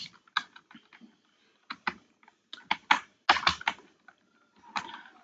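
Keys clack on a computer keyboard in irregular clusters of crisp taps, close and fairly loud, with short silent pauses between bursts.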